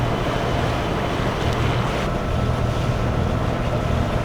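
A sailboat motors out a channel in Martinique toward an anchorage, with a loud, steady wash of wind and water rushing over a low engine drone, continuous and close.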